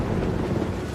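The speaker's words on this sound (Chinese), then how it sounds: "前方狂风大作" Strong wind roars steadily and loudly, a dense, continuous gust with no break, set in a war film scene.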